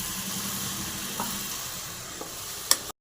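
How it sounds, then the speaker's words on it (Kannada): Soaked tamarind juice poured into a hot frying pan, giving a steady bright hiss of sizzling with a few soft clinks. It cuts off abruptly at the end. "ಹುಣಸೆ ಹುಳಿ ಬಿಡಬೇಕು."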